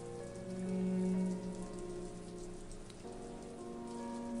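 Heavy torrential rain pours steadily in an RPG Maker horror game, a dense, constant hiss alone with a low background tone underneath.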